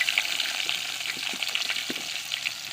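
Chopped onions and green chillies sizzle steadily in a hot pan, a close, continuous frying hiss with small crackles and pops throughout and no voices.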